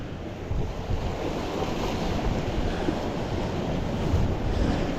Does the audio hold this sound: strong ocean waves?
yes